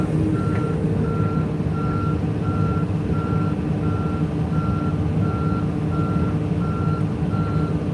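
Truck reversing at a demolition site, its backup alarm beeping in an even, regular rhythm over a loud, constant diesel engine rumble.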